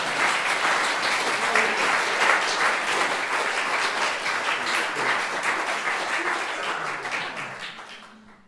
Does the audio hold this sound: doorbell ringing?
no